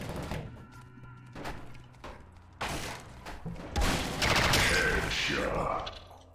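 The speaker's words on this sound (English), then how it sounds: "Gotta follow the sounds of firing and everything." Gunfire from a Source engine first-person shooter rattles out in sharp shots, then swells into a loud, sustained burst of rapid firing and impacts in the second half.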